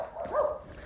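A dog out on a walk gives one short, muffled bark or yelp, heard at moderate distance and fairly quiet against faint outdoor background noise.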